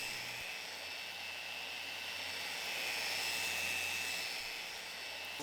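Powerful sander stripping the finish off a large wooden dining table, a steady, fairly quiet whirring roar with a thin high whine that holds evenly throughout with no pauses and no voices.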